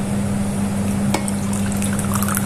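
Hot water, a third of a cup, is poured into qatayef batter made with baking soda, a steady continuous liquid pour running close and loud with no talk over it.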